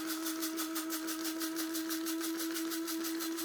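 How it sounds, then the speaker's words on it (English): A steady, high-pitched motorized whirring with a rapid pulsing texture as a blade coffee grinder runs continuously, grinding toasted spices. "So, Blade coffee grinder"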